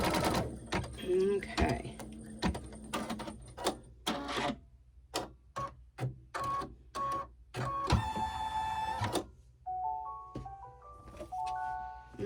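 Embroidery machine stitching an in-the-hoop potholder, rapid clattering bursts and stops, then a beeping melody of completion tones at the end; a voice speaks briefly.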